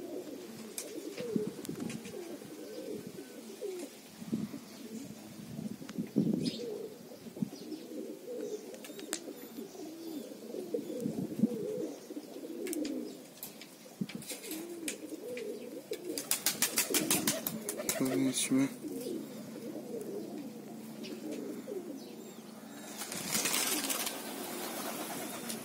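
Pet pigeons coo steadily in soft, low, rolling calls, with occasional brief rustles and flutters nearby as birds are flushed by a crow; no talk.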